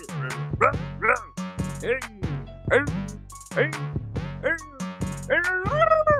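A man imitates a dog with his voice, giving a quick series of barks, yips and whimpering howls close to the mic in a loud, uneven rhythm at a rap battle.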